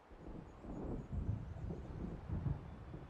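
Low, rumbling distant thunder from an approaching storm in the video game Alan Wake, rolling in faint swells with wind-like noise over a quiet outdoor background.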